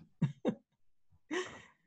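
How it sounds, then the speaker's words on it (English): A person coughs twice in quick succession, then after a brief pause gives one longer, rasping cough, close and alone. "I can't keep coughing"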